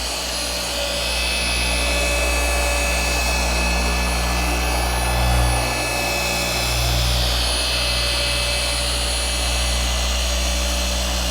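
A RUPES polisher with a wool pad runs steadily at speed 4.5 on an Audi R8, giving a loud continuous motor whine and hum with slight swells in load as it works the paint.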